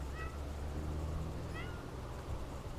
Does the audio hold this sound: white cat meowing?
yes